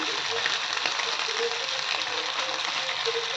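Fish fries in hot oil in a home kitchen, giving a continuous, even sizzle and crackle with small pops that persist throughout.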